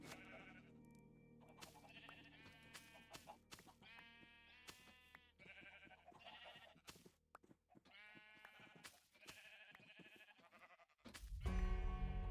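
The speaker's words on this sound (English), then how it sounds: "I can actually shear my sheep." Sheep bleat in the video game Minecraft, several short wavering calls in quick succession over a soft melodic background, ending with a louder low rumble, no talk present.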